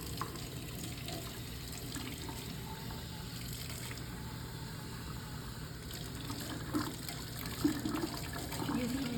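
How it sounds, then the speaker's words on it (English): Water running steadily from a sink tap during hand and forearm hygiene with a nail pick, a continuous wash under low background noise. "So I'm just going to turn on the water."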